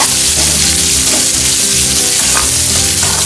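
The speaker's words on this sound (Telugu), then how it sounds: "ఇప్పుడు ఉల్లిపాయలు వేసేసుకోండి ఇవి కొంచెం బ్రౌన్గా అయ్యే వరకు వేయించుకోండి" Sliced onions sizzling loudly in a pan while browning for idli upma, a dense continuous hiss with bubbling crackle and a few stirring scrapes, close and strong, with no voices.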